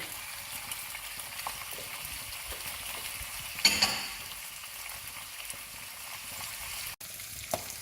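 Pork belly fries and caramelizes in a pan with a quiet, continuous low sizzle, marked by one brief louder hiss and a few small clatters, and no talking.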